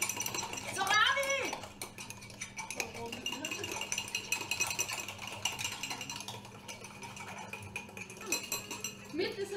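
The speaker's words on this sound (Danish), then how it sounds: "Så rører vi!" A spoon stirs mug cake batter in a cup, with soft scraping and clinking against the sides in an irregular rhythm, quiet and close, while people talk over it.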